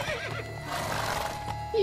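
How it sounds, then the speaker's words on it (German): A horse whinnies in a short, shaky neigh, followed by faint hoof clops, then another brief whinny starts at the end, in the video game The Witcher 3: Blood and Wine. "Cool, wir haben ein neues Pferd."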